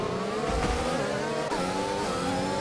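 Two McLaren race cars running side by side in an F1 racing game on the Azerbaijan circuit, their engines howling together as a steady, loud, high-revving drone with a slight pitch shift midway.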